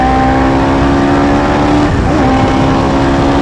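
A Hayabusa-powered race car accelerates hard past a Golf R fitted with big forged brakes on a race track, its high engine note loud and close, shifting in pitch once partway through.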